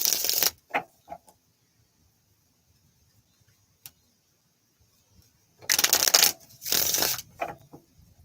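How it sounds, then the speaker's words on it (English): A deck of cards is shuffled during a poker-style card reading, with a short riffle at the start, then two loud, close riffle bursts near the end and quiet gaps in between. "One more shuffle."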